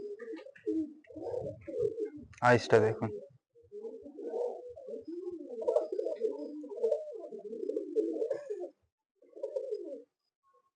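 Close pigeon cooing in repeated low rolling phrases over several seconds, with a short burst of wing flapping early on and someone speaking intermittently among the coos.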